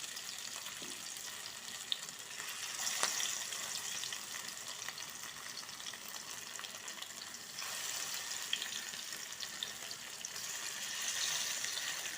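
Fish pieces, skinned, fry in hot oil in a pan with a steady, close crackling sizzle that swells slightly at moments, with no talking.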